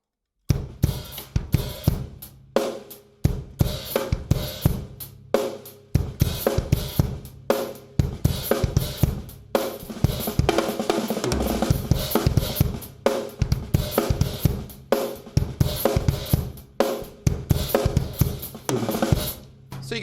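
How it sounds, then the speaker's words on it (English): A drum kit plays a steady syncopated groove of kick drum, snare and open hi-hat at a slow lesson tempo, with tight repeating hits and no talking over them. "snare and closed hi-hat, kick on its own, kick and an open hi-hat"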